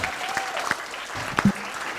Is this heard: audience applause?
yes